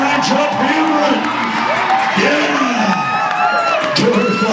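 Crowd at a monster truck show in Pasco, Washington, cheering, whooping and shouting loudly and continuously as a truck makes its run, with individual excited voices rising above the roar.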